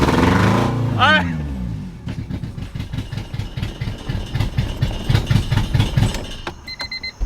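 A B20-swapped Honda Civic EK engine fires up for its first start, cranking into a rough, uneven idle with rhythmic chugging pulses and brief revs, close by, while people talk over it.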